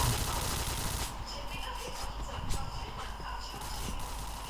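Rapid gunfire in an online shooter video game, a dense burst of shots crackling over a steady roar, with someone talking over it.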